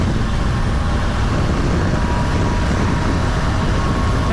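A Triumph Tiger 900 Rally motorcycle rolls on in sixth gear, heard as a loud, continuous broadband roar of engine and wind rushing past with no clear change in pitch.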